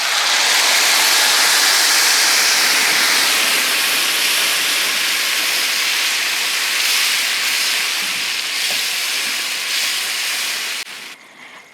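Tomato paste hitting hot garlic paste in a pan for egg curry gives a loud, steady broadband sizzle that fades slightly toward the end, with no talking.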